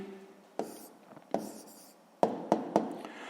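A pen writes out the answer to a 6th-grade maths equation, a series of short scratchy strokes and taps on paper, close and fairly quiet, in irregular bursts separated by brief pauses.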